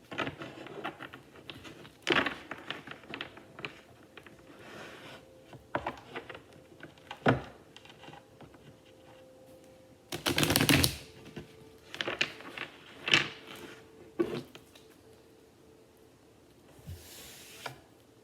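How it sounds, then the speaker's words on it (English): Tarot cards riffled and shuffled in short clattering bursts, with a longer louder shuffle midway, and quiet pauses between handlings. "Let's give this deck a little bit of a shuffle here."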